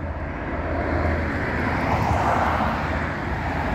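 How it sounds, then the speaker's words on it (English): A helicopter passes overhead with a broad, steady engine and rotor rumble that swells slightly in the middle and then eases off, heard on its own without any voices. "I don't know what kind of helicopter that is."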